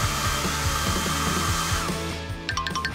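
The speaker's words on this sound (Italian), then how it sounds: "Con tutti questi strati bisognerà dargli un bel colpo di phon." A hair dryer blows steadily on hair stiffened with many layers of hairspray, a loud continuous motor hum and airflow that eases off near the end as a few sharp clicks come in.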